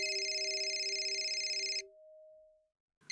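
A phone rings with a bright electronic trill for a couple of seconds and then breaks off into quiet, ending in a brief soft rustle.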